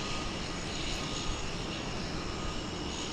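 A Boeing 737 MAX 9 jet at DFW airport gives off a steady broad engine roar, distant and even, with no voices over it.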